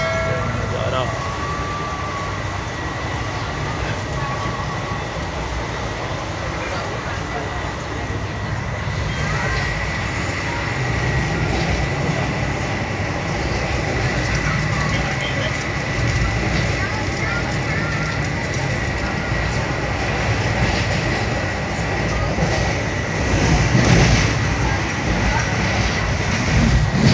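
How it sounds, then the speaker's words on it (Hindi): A moving passenger train heard from inside a carriage: a continuous loud rumble and rush of wheels on rail that swells in the last stretch, with a voice speaking over it. "तो ट्रेन में बैठा हूँ जा रहा हूँ ट्रेन में जा रहा हूँ।"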